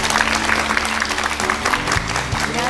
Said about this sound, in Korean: 교수님 큰 박수로 모시겠습니다.